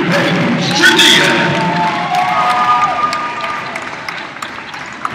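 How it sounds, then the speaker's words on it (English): An indoor crowd at a college volleyball match cheers, whoops and applauds during player introductions, loud and sustained before gradually thinning into scattered claps and shouts. "another round of applause for number three, Paige Trudia"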